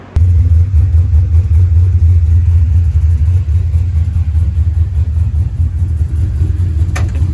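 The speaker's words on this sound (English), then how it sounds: "Maybe we'll get that cold start." A 2,000-horsepower Jeep Trackhawk supercharged V8 engine, out of the car on a stand, starts from cold and settles into a loud, deep, steady idle rumble close to the microphone, with a brief click near the end.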